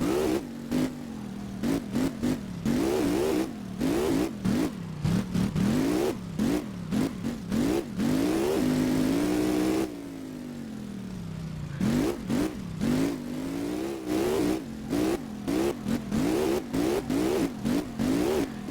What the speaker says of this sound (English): It actually drifts really good for an open diff.